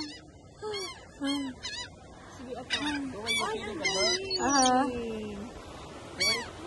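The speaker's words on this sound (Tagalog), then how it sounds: "Feeding the birds." Several birds call in a busy mix of honking and squawking notes while being fed at a Texas beach, close by, with voices talking among them.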